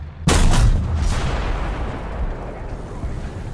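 A tank cannon fires HESH shells in a video game: a loud, sudden blast booms up and rolls off, with a second thud soon after, then a long fading rumble.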